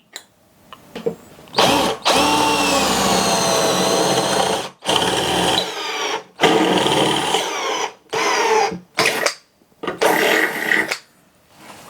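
A Dongcheng 12V cordless hammer drill (DCJZ1202i) drives a size 10 bolt in repeated loud whirring bursts, the motor pitch shifting under load, separated by short pauses, very close and with no talking.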